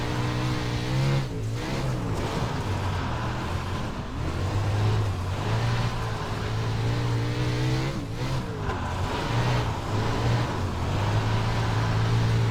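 A wingless sprint car in the iRacing sim roars continuously at close range, its engine note rising and dipping as it revs through corners, loud and unbroken throughout.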